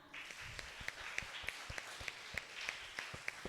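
A group of children at a Sunday school Teachers' Day celebration claps for Raj Kumar, a steady run of sharp, fairly close hand claps with a brief cheer at the start and no talking.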